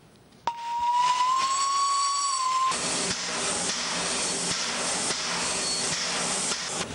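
A restored steam locomotive at Tisovec sounds its whistle, a loud sustained tone that starts abruptly and cuts off after about two seconds, followed by a steady, loud hiss of escaping steam.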